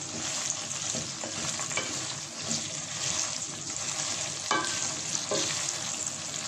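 Steady, dense sizzling of okra frying in a pan, a continuous crackling hiss with occasional louder pops and stirring scrapes, no talking.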